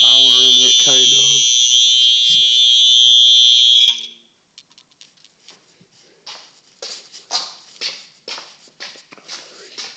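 A Simplex fire alarm, apparently underpowered, blares a loud steady high-pitched tone for about four seconds, then cuts out, leaving faint shuffling and handling noises; a brief voice is heard near the start.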